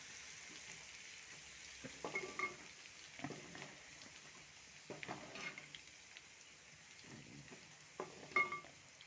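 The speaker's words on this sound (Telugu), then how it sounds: "దోరగా వేగేదాకా కొంచెం కలుపుకోవాలి." Garlic paste frying in a pan with the stove off for an amla pickle, a faint steady sizzle broken by several soft stirring scrapes.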